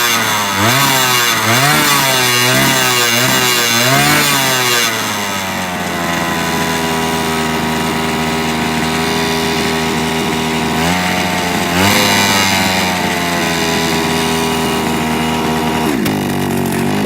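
A 43cc GSMoon gas scooter engine runs loud and close, revving up and down in several quick blips before settling into a steady, buzzing idle, with another brief rev near the end.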